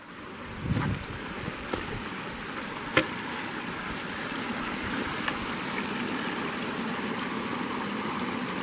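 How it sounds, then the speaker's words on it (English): A small stream of snowmelt water flowing off a wooded hillside in Bankhead National Forest, Alabama, a steady close rushing wash with a few faint clicks and knocks, no voices. "A little stream joining in."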